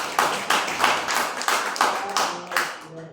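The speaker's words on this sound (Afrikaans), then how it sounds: "Julle kan maar hande klap. Julle klap nou vir julleself." A church congregation at a Sunday morning camp service claps hands together in a series of loud, rhythmic rounds, close and steady, fading out near the end.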